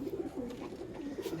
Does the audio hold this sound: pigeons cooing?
yes